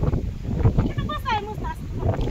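Strong gusty wind buffets the microphone at a temple site in Bhigvan, a steady roaring rush with someone talking over it throughout.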